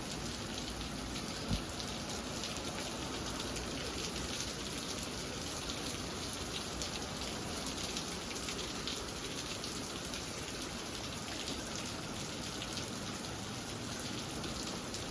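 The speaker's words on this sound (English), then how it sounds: "Alright, nice downpour here. Let's call it a moderate downpour." A moderate rain downpour hisses steadily and evenly throughout, a dense continuous patter on surfaces with no voices.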